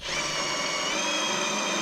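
A power drill bores into a car with a steady, loud, continuous whine that runs unbroken through the moment, with no voices over it.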